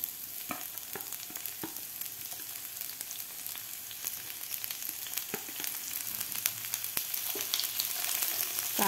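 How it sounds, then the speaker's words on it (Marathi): Chopped onion fries in a hot pan with a steady, close hiss and crackle, broken by regular clicks and scrapes of stirring, and no one speaks. "त्याच पॅनमध्ये आपल्याला कापून घेतलेला कांदा भाजून घ्यायचा आहे।"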